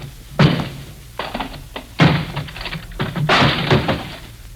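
Door effect for a radio drama: a lock is worked and a door opened, giving three heavy thunks with rattling clicks between them, close and loud, with no voices.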